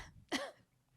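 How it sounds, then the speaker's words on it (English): A woman gives a single short, harsh cough, fairly quiet and close, with near silence around it. "She's coughing in protest."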